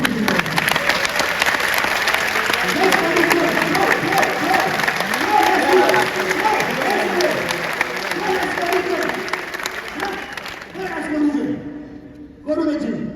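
A large audience at a talk with a grandmaster claps in a long, dense burst mixed with crowd noise and cheering, a voice speaking over it, before the applause thins out near the end.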